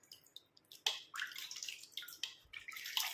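Water trickles and splashes irregularly as hair dye is rinsed off, a close, soft patter of drips and gushes with no voices.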